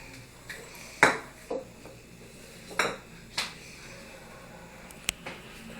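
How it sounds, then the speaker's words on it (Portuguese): Dishes clink and clatter as a two-year-old washes them at a running tap, a handful of scattered sharp knocks of crockery and cutlery over a low background hiss. "Você gosta de lavar louça, Lídia?"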